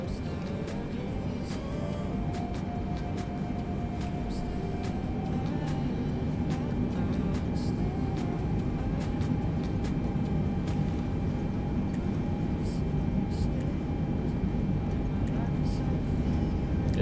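Boeing 747 engines roaring during takeoff in Microsoft Flight Simulator 2020, a broad steady rumble with a rising tonal whine, and someone talking over it.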